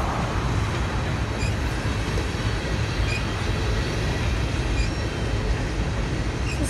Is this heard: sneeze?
no